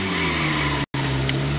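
A car pulling away in the driving game Driver: San Francisco, a loud, continuous engine drone with tire noise, cut by a brief dropout in the middle.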